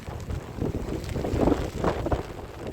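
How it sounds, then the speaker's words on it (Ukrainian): Steady wind buffets the microphone with a low, rumbling roar that swells and fades slightly, with no voices. "Вітер, дождик, холодно."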